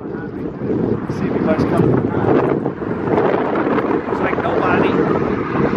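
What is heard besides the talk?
strong wind blowing on a bridge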